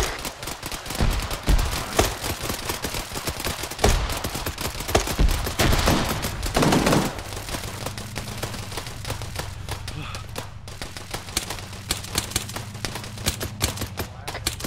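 Gunfire in the video game Arma 3 cracks in rapid bursts and single shots, dense volleys early, then sparser reports over a low engine hum from a nearby vehicle.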